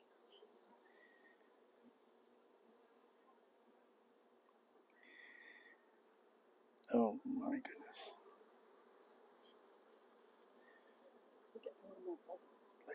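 Honey bees humming inside an open hive during an inspection, a soft continuous drone close by, with a person murmuring in surprise partway through and brief handling noises near the end.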